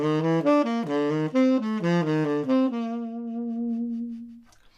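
A tenor saxophone plays a legato melodic phrase from a song. It is close and clear, ending on a long sustained note that fades out, with no talking.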